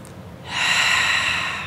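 A steady, breathy exhale during an abdominal hypopressive exercise, starting after a short pause and continuing as a sustained airy rush, close and fairly loud, with no talking.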